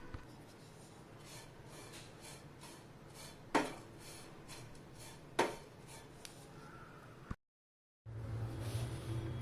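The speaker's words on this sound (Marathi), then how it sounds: "सुकं खोबरं किसून भाजून घेतोय भाजीत टाकायचा मसाला तयार करण्यासाठी" Grated dry coconut roasts in a pan as a spoon scrapes and stirs it in a soft, steady rhythm, with two sharp metallic clanks, then a brief silence before the scraping resumes.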